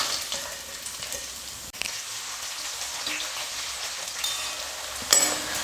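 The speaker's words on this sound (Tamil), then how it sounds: "வெங்காயம் சேர்த்து 1 நிமிஷம் வதக்கினா போதும்." Thin, long-sliced onion sautés in hot oil with whole spices, a steady hissing sizzle heard close, broken by a sharp tap at one point and a louder crackling burst near the end, no talking.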